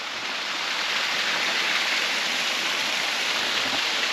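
A waterfall near Dyrham village, a loud, continuous broadband rush of falling water heard up close, steady and unbroken with no voices.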